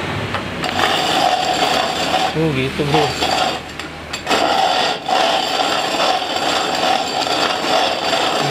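Antique 1800s Spong manual coffee grinder with large burr teeth crushing coffee beans at a medium-coarse setting, a loud, continuous close-up grinding and crunching, with a short exchange of speech partway through.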